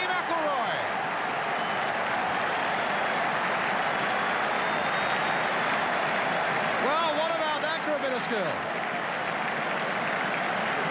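A 1970s football crowd at a Tottenham Hotspur v Manchester United match cheers and applauds loudly after a goal, a broad sustained roar with clapping, while a commentator talks over it.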